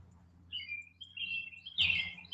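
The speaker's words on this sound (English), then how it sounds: "And listen to the birds as they come out." Birds chirp and tweet in the early morning beside a campfire, a few thin high calls at moderate distance building to a louder burst of twittering over a quiet low background.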